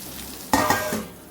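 Hot oil poured over spices and asafoetida for a pickle tempering, a sudden loud sizzle bursting in after a quiet moment, then crackling and fading over about a second.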